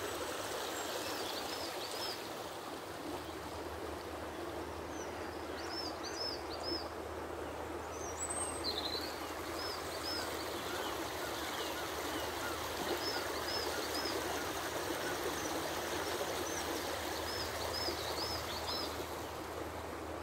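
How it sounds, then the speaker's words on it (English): Faint chirps and short whistled phrases from birds come and go in woodland along the Deanburn stream, partly masked by a steady rushing of water that fills the whole stretch. "Let's now listen to a few seconds of bird song."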